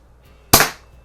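A single sharp crack from a Daisy model 102 BB gun fires once, close and loud, after a moment of near silence.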